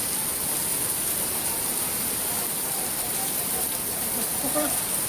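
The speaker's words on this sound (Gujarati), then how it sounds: "જો કેટલો વરસાદ છે." A heavy downpour roars in a constant, close wash of noise with no pauses from start to end.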